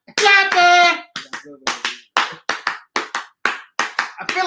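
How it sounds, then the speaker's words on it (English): One person claps by hand in a run of about a dozen sharp, close claps at a slightly uneven pace, with a short burst of loud vocal noise at the start. "I'm clapping. My hands don't hurt because I got mailman hands now. Clapping."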